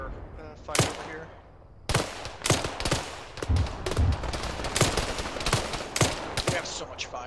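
An Arma firefight with ShackTac players, full of sharp gunshots in irregular bursts and single cracks, some near and loud, some farther off, with voices talking between the shots.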